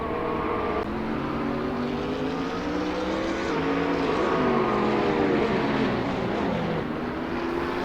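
GT3 race cars, a Nissan sandwiched between two Ferraris, racing at Silverstone in Assetto Corsa: engines whine continuously with shifting pitch, several cars close together, loud and sustained.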